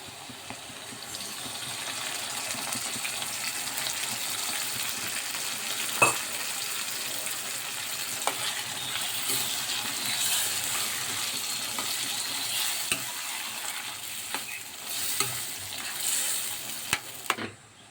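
Chopped onions and green chillies sizzle steadily in hot oil for an Andhra-style tempered dal, with stirring scrapes and occasional sharp clinks as boiled toor dal goes into the pan, continuous and fairly close.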